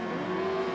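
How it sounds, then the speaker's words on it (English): Speedway motorcycle engines held at high revs on the start line before a race, giving a loud, steady, droning whine from several bikes at once with no voices over it. "Revs are up."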